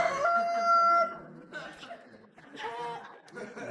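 A rooster crows near the start among chickens in a coop, followed by further fowl calls and clucking mixed with people talking and chuckling.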